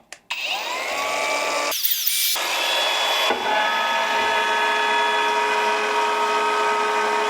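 A ProCraft Industrial AG 125C angle grinder spins at high speed in a balance test on third speed, a loud steady whine that dips briefly near the start and then holds on with a shrill ringing tone.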